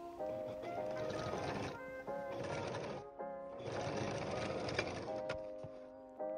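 A sewing machine stitches a handmade DIY shirt closed at its small opening, whirring steadily at a moderate level in two long runs with a brief pause between.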